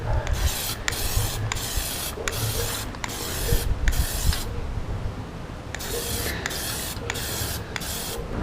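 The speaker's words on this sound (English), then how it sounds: "Always try to start spraying, I didn't do it there, try to start spraying off the panel" Repeated hissing bursts of an aerosol can spraying plastic dip paint onto a plastic car dashboard panel, short rhythmic passes with a longer continuous spray in the middle, close and fairly loud.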